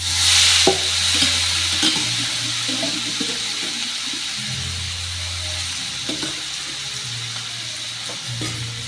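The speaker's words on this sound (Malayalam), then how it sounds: "ഇതിലേക്ക് വേവിച്ച് വെച്ചിരിക്കുന്ന പാവയ്ക്ക കോരി ഇട്ട് കൊടുക്കാം" Boiled bitter gourd is scooped into a hot pan for a Kerala-style mezhukkupuratti, with wet sizzling and scraping stirs over a low steady hum, loud at first, then settling into an even frying hiss.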